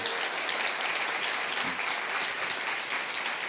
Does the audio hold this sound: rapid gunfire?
no